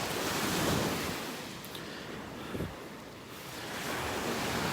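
Ocean waves wash up on a beach in North Naples, Florida, making a broad, steady surf roar with soft swells in loudness and some wind buffeting the microphone.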